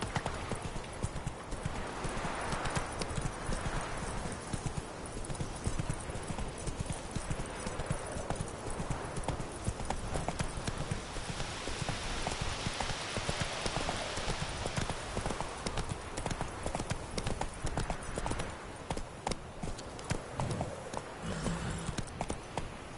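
Horse hooves clop in a steady, fast rhythm across The Witcher 3 game world, close and continuous, with a faint whinny and a game voice briefly over the gallop.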